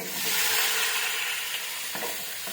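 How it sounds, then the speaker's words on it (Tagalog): Chicken pieces sizzle loudly in a hot pan with onion and tomato for chicken curry, a steady close hiss with a couple of soft stirring scrapes near the end. "Ilagay na natin yung chicken."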